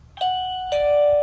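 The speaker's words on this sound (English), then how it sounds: "Let me go ahead and ring the bell." The chime of a PLACUY wireless doorbell camera rings out as a clear two-tone ding-dong, loud and close, the second note held and ringing on with no voices.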